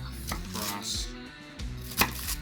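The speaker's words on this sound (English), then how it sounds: "I'm going to chop this more fine anyways, but I just want to get it all chopped up first" Kitchen knife chopping cabbage for sauerkraut on a cutting board, several sharp, close chops in an uneven rhythm with brief pauses between strokes.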